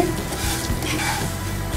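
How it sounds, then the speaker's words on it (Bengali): Vermicelli fries in ghee over a medium flame, a close, continuous sizzle and hiss with faint stirring, heard alone for about two seconds. "এবার ঘিয়ের মধ্যে আমি সেমাইগুলো একটু ভেজে নিব"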